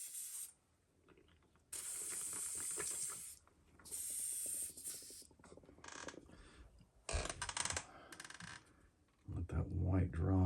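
A paint spray gun blowing out leftover white paint while painting a custom swimbait: several sharp bursts of hissing airbrush spray separated by pauses and small mechanical clicks and handling noises.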